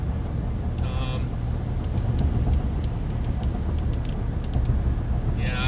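Steady low road rumble of a truck driving on the road, a continuous engine and tyre drone that stays near and even throughout with no speech.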